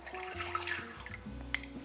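Cold water pours over raw pork belly in a pot, a steady splashing and filling sound with a low hum underneath, near and alone.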